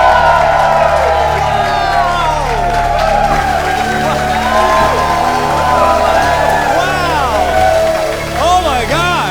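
A live studio audience at a late-night talk show cheers, whoops and shouts loudly and continuously, a dense crowd roar with rising and falling yells throughout.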